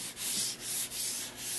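A cork is worked back and forth across a ski base to rub in Fast Wax Flite wax. It makes close, rhythmic rubbing strokes, about four passes in quick succession, with no talking.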